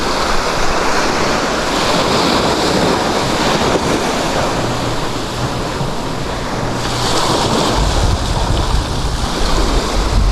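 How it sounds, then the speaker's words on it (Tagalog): Sea surf washes steadily just beside a seaside house, a loud continuous roar of breaking waves with heavy wind buffeting the microphone. "Ito yung dagat, ang lapit na sa bahay,"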